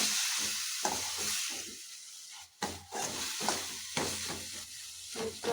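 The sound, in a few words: masala with onion and tomato frying in a pan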